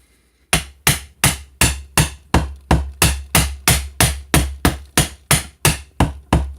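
A steady series of about eighteen sharp metallic brass hammer taps seating a guitar fret, evenly spaced and close, ringing briefly after each strike with no voices.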